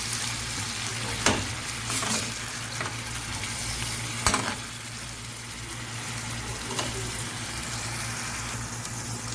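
Minced meat fries in a pot while being stirred, a continuous sizzle broken by a few sharp scrapes of the spoon against the pot, close up with no speech.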